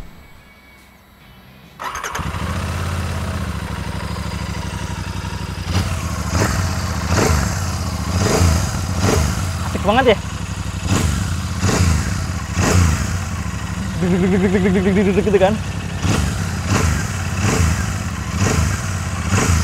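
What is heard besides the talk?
Royal Enfield Super Meteor 650 twin-cylinder motorcycle engine running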